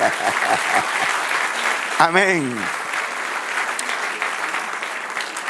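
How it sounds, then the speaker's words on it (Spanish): A church congregation applauds throughout a service in a steady, dense wash of clapping, while a voice speaks briefly over it. "Dale un aplauso al Señor."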